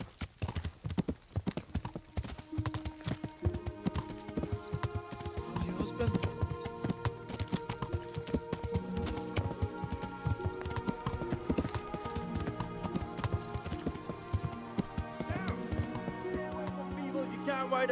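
Horse hooves clip-clopping in the video game Kingdom Come Deliverance, a steady rhythmic trot of hoofbeats throughout, with a brief whinny and voices talking over it.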